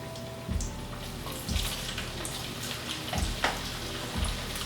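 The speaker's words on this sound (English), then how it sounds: "So now that our oil is hot, we're just going to fry them." Sliced plantains for tostones frying in hot oil, a soft continuous sizzle with a few thumps and clinks as pieces go into the pan, fairly quiet and close.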